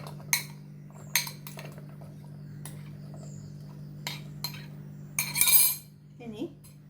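Kitchen clatter of cut raw banana and yam pieces dropped into a pressure cooker: several sharp metallic clinks and knocks spaced apart over a low steady hum, with a longer rattling scrape near the end.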